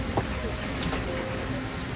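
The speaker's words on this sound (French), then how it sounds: "Ce matin-là, il pleut sur Atlanta, la capitale de la Géorgie." Rain falling over Atlanta, Georgia, a faint, even hiss of steady rainfall with no distinct drops standing out.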